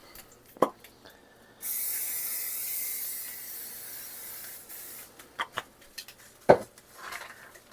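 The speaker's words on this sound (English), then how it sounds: "We're going to spray a little bit of spray." Cooking spray hisses from a can in one sustained burst of about three seconds before chicken cubes are cooked, framed by scattered clinks and knocks of kitchen handling.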